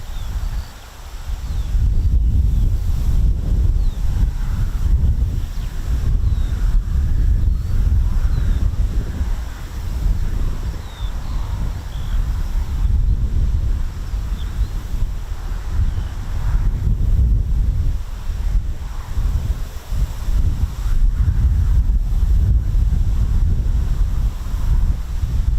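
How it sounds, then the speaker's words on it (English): Strong wind at the RAF Marham airfield buffets the microphone in a constant low roar, with gusts rising and falling throughout and no voices. "It is, again, really windy here at RAF Marham."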